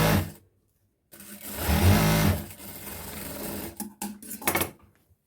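A sewing machine stitching churidar pant legs, a close rapid mechanical whirring that starts after a brief silence, runs steadily, then breaks into short stop-start bursts as it slows.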